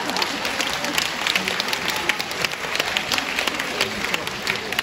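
Thin, scattered applause from a small audience at a literary house evening, a sparse patter of individual claps holding at a modest level for a few seconds.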